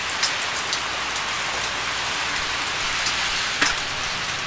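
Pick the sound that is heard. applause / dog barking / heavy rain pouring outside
heavy rain pouring outside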